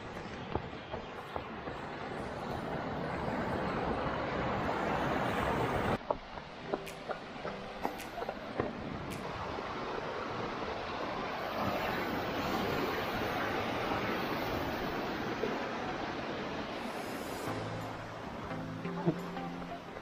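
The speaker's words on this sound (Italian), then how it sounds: "corsi d'acqua che normalmente non ci sono possono nascere improvvisamente." A temporary stream forms after heavy rain on a mountain trail in the Faedis valleys of Friuli. The water makes a steady broadband rush nearby, with occasional wind buffeting on the microphone.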